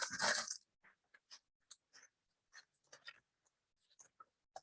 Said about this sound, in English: I'm going to crumple it